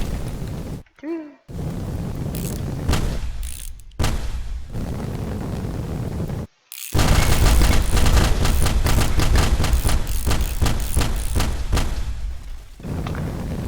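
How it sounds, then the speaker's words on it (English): Gunfire in the video game Teardown, with rapid, loud bursts of shots and booming impacts running almost continuously, broken by a few brief silences, dense and close throughout. "Wait, does a gunshot go through both layers?"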